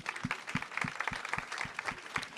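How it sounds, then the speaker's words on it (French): At a pastry challenge trophy ceremony, a small crowd applauds, with a few close, rhythmic claps beating steadily over a softer spread of clapping from the room. "Applaudissements, s'il vous plaît."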